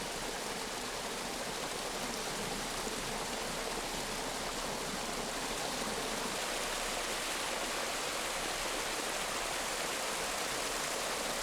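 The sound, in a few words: water flowing and falling down a valley stream, Geumneung Gyeongpodae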